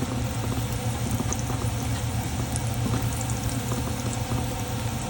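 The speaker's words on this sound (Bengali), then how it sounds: "পেঁয়াজ মরিচ হালকা ভেজে নিব" Onions and chilies fry in a pan with a dense, steady sizzle and crackle, loud and close, continuous throughout with no talking.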